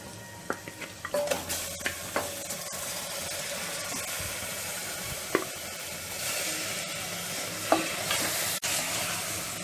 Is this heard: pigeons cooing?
no